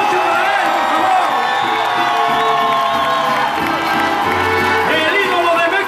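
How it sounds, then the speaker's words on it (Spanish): A large concert crowd in San Diego cheers, whistles and applauds continuously, a dense, loud wall of shouting and clapping with no break. "El aplauso, la ovación más fuerte de esta noche para él, por favor."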